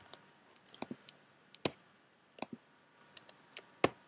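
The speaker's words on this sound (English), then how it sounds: "And a little bit of keystrokes there." Computer keyboard keystrokes while coding, sparse irregular clicks, some in quick pairs, close and quiet against a hushed background.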